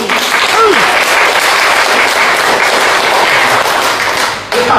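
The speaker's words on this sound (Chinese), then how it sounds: "当然，掌声再热烈点会更好" Audience applause at a crosstalk show in the Deyun Club theatre, a loud, dense burst of many hands clapping that holds steady and then cuts off sharply near the end, with a brief voice over it.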